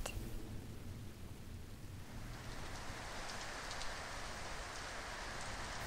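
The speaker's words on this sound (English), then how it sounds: "Rain." Steady rain falling, a dense even hiss of drops with a low rumble underneath, continuous throughout without pauses.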